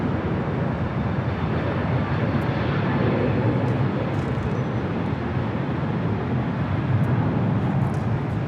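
A Korean Air Boeing 747 taxis toward the remote gates at LAX on a chilly day, its engines giving a steady, broad distant roar that fills the whole stretch without a break.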